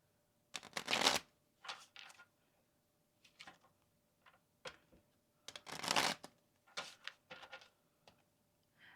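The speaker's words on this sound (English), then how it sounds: "So we'll shuffle our deck." Tarot cards riffle in quick bursts, several separate shuffles with short pauses between, close by and fairly quiet in an otherwise silent room.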